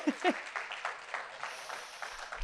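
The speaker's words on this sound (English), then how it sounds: "give them a round of applause as well" Brief, quiet applause from an audience at a public safety event, a soft smattering of clapping that thins out within a couple of seconds, with no voices over it.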